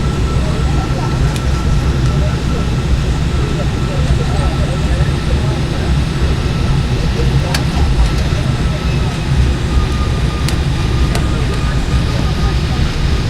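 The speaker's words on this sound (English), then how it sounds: "Sorry, I probably heard another plane taking off." Steady loud roar of a jet aircraft engine as a plane takes off, a broad rumbling wash with a few sharp clicks and a faint whine on top.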